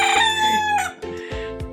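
A rooster crows once, loud and close, followed by a few soft clucks from nearby fowl.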